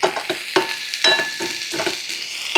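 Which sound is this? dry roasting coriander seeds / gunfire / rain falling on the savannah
dry roasting coriander seeds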